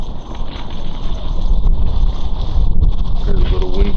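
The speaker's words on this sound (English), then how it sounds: "A little wind gust. Yeah, now the wind." Wind rushes and buffets the microphone outdoors in St. Petersburg, Florida, building to a stronger gust partway through, with faint rustling and a brief voice near the end.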